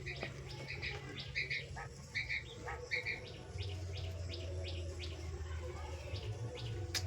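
A sick fancy pigeon with a neck-twisting illness gives a series of short, repeated chirping calls in bursts over a low steady hum.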